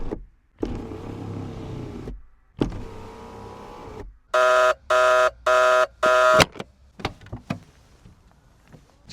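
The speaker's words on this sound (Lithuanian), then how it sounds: "dabar užsidarė langas" Power window of a BMW E36 Compact 316i with the M43 engine, heard close up. Two longer motor whirs come first, then four short, loud bursts of a chiming beep, followed by scattered clicks and a quiet tail.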